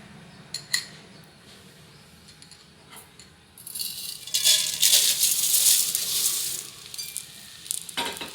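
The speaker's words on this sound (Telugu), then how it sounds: "టూ టేబుల్ స్పూన్ నెయ్యి వేసుకొని దీనిలో మనం అటుకులు ఫ్రై చేసుకుందాం" Flattened rice (poha) frying in two tablespoons of ghee in a kadai: a few light clinks at first, then a loud, crackling sizzle rising midway and continuing with stirring.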